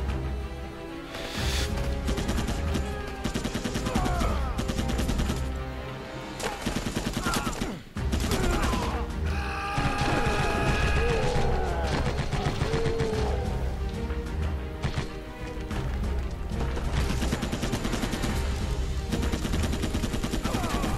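Dense, rapid gunfire from a Rambo video game, including shotgun blasts, crackles in overlapping bursts with brief pauses, accompanied by in-game effects and a player talking underneath.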